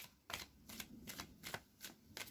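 Tarot cards are shuffled by hand in about six quick riffling bursts, close and quiet, with no voice.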